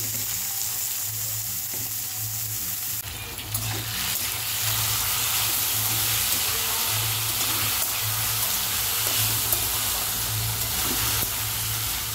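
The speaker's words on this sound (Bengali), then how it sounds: "একটু আলু ভাজা বসালাম" Potatoes frying in a pan give a steady, loud, close sizzle that continues without break, with a faint low hum underneath and no talking.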